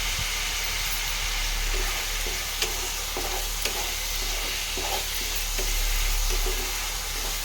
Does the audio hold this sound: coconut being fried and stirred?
yes